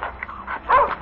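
A dog in the video game The Division 2 gives a short, muffled bark and yip, close and fairly loud over a brief moment of game sound.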